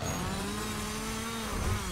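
Chainsaw-wielding enemy in the video game Resident Evil 4 Remake, a steady buzzing engine drone holding near and loud throughout without pause.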